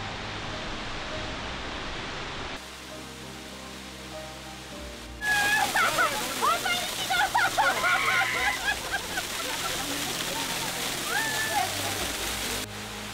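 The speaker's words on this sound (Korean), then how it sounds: "작은 폭포가 일행을 반깁니다" A small waterfall on a mountain path, known as Gwaneum Falls, rushes with a broad steady roar that swells louder midway, while a voice talks over it and birds chirp faintly.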